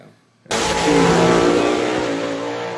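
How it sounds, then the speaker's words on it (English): A drag race car's engine bursts into a loud roar after a brief quiet moment and holds a harsh, rough tone while trouble develops well down the track. No distinct separate backfire pops stand out. "you can see the backfire right there from Ryan where he started having trouble"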